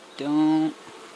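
A honey bee at an open hive during a honey harvest makes one close, loud buzz of about half a second over a steady low background hum.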